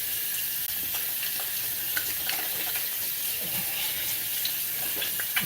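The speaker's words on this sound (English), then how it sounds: "Now I wash my hands." Tap water running steadily at a sink during hand washing, a continuous hissing splash with small irregular spatters and no pauses.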